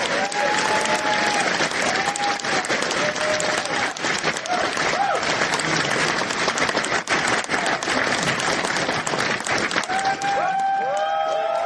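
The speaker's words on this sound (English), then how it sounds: "Give him a big round of applause, guys." A large audience at the QuakeCon keynote breaks into loud, sustained applause and scattered cheers that fill the hall steadily for several seconds before tapering off.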